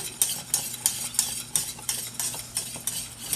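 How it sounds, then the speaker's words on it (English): A spoon stirs peanut butter pie filling as it boils in a pot, giving regular rhythmic scraping strokes about every third of a second over a low bubbling hiss, close and steady. "Continuously stirring."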